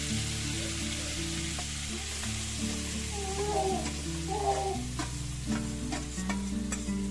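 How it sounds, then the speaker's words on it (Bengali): Mushroom curry ingredients fry in two spoons of hot oil in a kadai, a steady close sizzle with stirring scrapes and clinks running throughout, no voices. "কড়াইতে 2 চামচ তেল গরম করে রাখা আছে আগে থেকে। এখন সমস্ত কিছু আমি এই তেলের মধ্যে দিয়ে দিলাম।"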